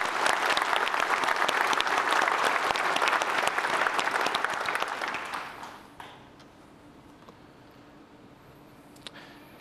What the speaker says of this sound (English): So please join in a round of applause.